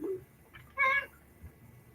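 A cat gives a single short, clear meow indoors, standing alone over quiet room tone.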